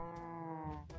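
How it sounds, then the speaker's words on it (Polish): Cow in Minecraft giving a short low moo, close and clear, lasting about a second with a slight dip partway through. "I krowa."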